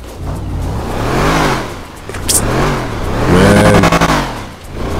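A Mercedes C63 in the GTA video game revving loudly up close, its engine note rising and falling in repeated swells with a brief whoosh in between.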